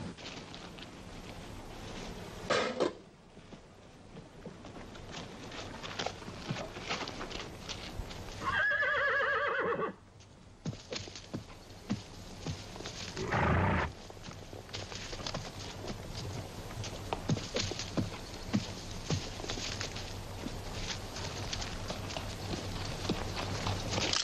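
Horses neigh and whinny in a Civil War-era outdoor scene, with a loud sweeping whinny near the middle and hooves clip-clopping throughout over background bustle.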